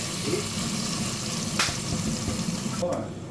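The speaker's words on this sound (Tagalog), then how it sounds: "Ito na ginsak na lahat. Luya, sibuyas, at yung garlic paste." Ginger, onion and garlic paste sautéing in sunflower oil for beef caldereta gives a steady, close sizzle throughout, with a brief clatter partway through and a faint scrape near the end.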